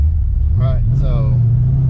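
A Ford Fox Body with a 331 stroker V8 idles low and rough, its engine note stumbling and wavering below 3,000 RPM with a couple of uneven blips, close and loud, under brief voice sounds.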